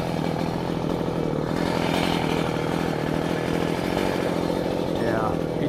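A chainsaw runs loud and close while cutting a tree on a farm, its engine buzzing continuously with a steady rough pulse throughout, and no clear talking over it.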